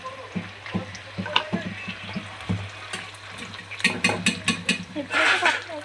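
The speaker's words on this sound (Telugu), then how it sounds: "ఇప్పుడు ఉల్లిపాయ ముక్కలు కూడా వేసుకుందాం." Onion pieces frying in hot oil with seasoning seeds and dried red chillies, a loud sizzle with stirring clatters and bursts of spitting near the pan.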